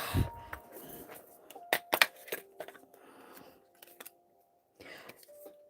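Thin curved nail scissors cut material for handmade fairy wings, giving a scattering of sharp, close snips and small clicks with quiet pauses between them and no talking.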